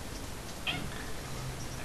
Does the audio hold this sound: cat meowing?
yes